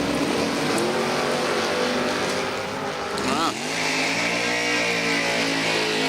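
A Porsche in a drag race at a bracket racing event roars loudly and continuously, its engine pitch dipping and then sweeping sharply upward midway before settling into a high, sustained howl.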